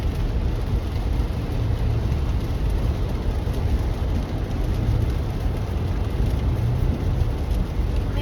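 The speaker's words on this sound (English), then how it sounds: "Let's enjoy this nice, soothing rainy sounds." Steady broadband rain and road noise inside a car crawling through slow traffic, a continuous even wash with low rumble and no talking.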